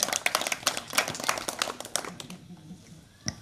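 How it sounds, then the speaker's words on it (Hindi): Audience at a village street play (nukkad natak) in Harraiya claps in a scattered burst of applause that thins out and fades to a few last claps. "आप दादा के लिए जोरदार तालियां।"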